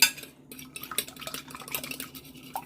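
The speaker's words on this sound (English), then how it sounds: "We beat the eggs" Eggs beaten in a bowl for deep-fried pork chops, a utensil clinking and scraping against the dish in quick, uneven strokes, close and moderately loud with no talking.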